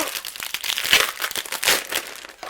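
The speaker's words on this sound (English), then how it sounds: "I'm going to open up our card kit" Plastic packaging of a card-making kit crinkles and rustles up close in a short, busy burst of crackling handling noise.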